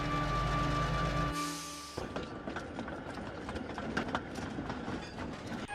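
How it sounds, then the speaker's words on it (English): A toy-style train engine lets out a sustained hoot, then pulls away hauling tanker cars, its wheels clattering in a steady clickety-clack rhythm that carries on close and fairly loud. "He shunted them in the middle of the train and started away with a friendly hoot."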